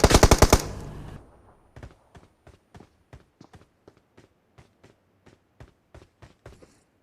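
M4 rifle fire in PUBG Mobile: a rapid automatic burst opens loud, then a quieter run of single, evenly spaced shots follows for several seconds.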